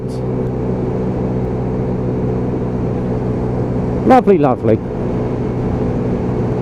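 A Piaggio Vespa PX125 scooter with a rear drum brake, ridden on a test ride, gives a steady, close engine drone throughout, with a few brief spoken words near the end.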